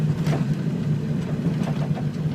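A 2000 Ford F350 diesel crew cab truck engine runs steadily with a low, even rumble, close and continuous, with no talk.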